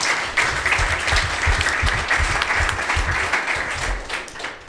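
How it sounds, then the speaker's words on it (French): An audience applauds teams after a scoring round at a live business game-show competition: steady, dense clapping holds at an even loudness for the full stretch, with no voices above it. "On peut les applaudir."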